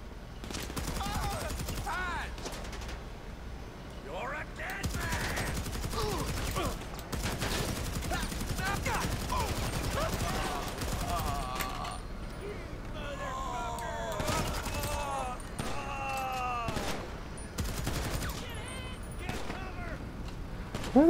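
Bursts of automatic and single gunfire in a shooter game, with a bullpup and heavy weapons mentioned, crackling repeatedly across the scene under intermittent talking and other game effects.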